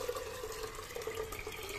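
Water runs steadily into a pot at home for dal makhani, a continuous moderate splashing and pouring with no talk.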